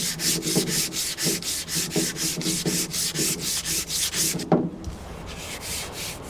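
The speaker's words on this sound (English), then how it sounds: "we'll take this and sand the entire handle down" Sandpaper rubs back and forth on a wooden farm tool handle in steady, evenly spaced strokes, close and moderately loud, with a brief pause before the scratching resumes more softly.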